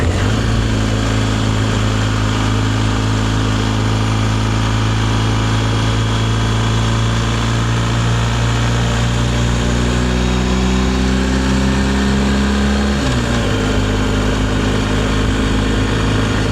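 A BMW GS Adventure motorcycle engine drones steadily while riding on winding mountain roads, holding a smooth, loud hum that shifts pitch sharply near the end as the rider changes speed.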